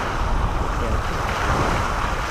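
Sea waves wash steadily onto the shore of Anilon Island in Burdeos, Quezon, a dense, continuous surf roar mixed with wind buffeting the microphone, with no voices.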